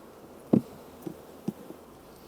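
A low murmur of honeybees at a hive being split sits under a few sharp, soft bumps, one louder knock followed by two fainter ones, with no speech.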